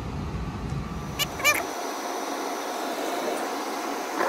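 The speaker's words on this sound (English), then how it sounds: "There's our heat, flames are going, but it keeps killing out." A gas furnace burner roars with a low rumble, then shuts off after a couple of seconds with a few sharp clicks. A steady airy hiss carries on afterward with no voices.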